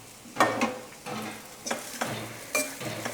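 Ridge gourd sautéed with masala in a pan: a spatula scrapes and tosses the vegetables in several uneven strokes over a low, steady sizzle, heard up close.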